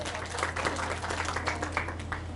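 An audience claps at a talk or lecture, a scattered round of applause from a fairly small crowd that holds steady at moderate loudness with no voices over it.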